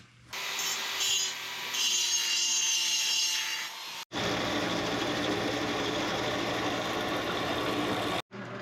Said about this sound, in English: I'm going to bevel that down a little bit so that I can get a deep weld in it